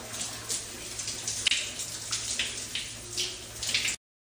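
Shower water runs in a steady hiss of spray that pulses slightly, then cuts off abruptly near the end.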